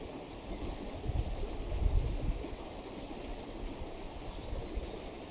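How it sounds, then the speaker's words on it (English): Rough river water runs over rocks on a country walk, giving a steady, full rushing roar with a low rumble that swells slightly midway and continues unbroken, with no voices. "enjoying that flowing, running,"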